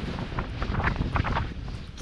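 Steady wind roaring and buffeting against a microphone on a wild camp in the Cheviot hills, a constant broadband rush with no voices.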